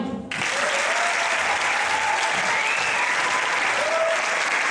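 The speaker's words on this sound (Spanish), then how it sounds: "Un aplaudiment." A school theatre audience bursts into applause for the cast of Tres sombreros de copa, the clapping starting abruptly after a brief quiet moment and staying dense and loud.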